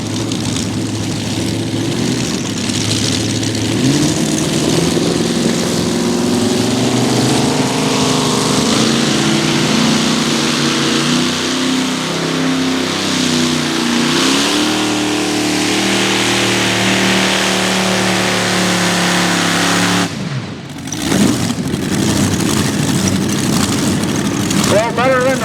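Chevrolet-powered pulling truck 'Attitude Adjuster' at a truck and tractor pull in Boonsboro, its engine roaring loud and sustained with rising and falling revs and a brief cut near the end, under an announcer's voice.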